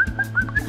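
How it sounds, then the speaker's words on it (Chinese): A quick run of four or five short, bright bird calls sounds close and clear, with a low cooing tone beneath them, on a studio variety show. "我的鸟鸣是不是也很吵啊？"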